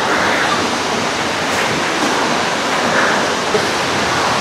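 Hulugan Falls, a 285-foot waterfall in Laguna, gives off a dense, loud, steady rushing roar of falling water that fills the whole moment without letting up.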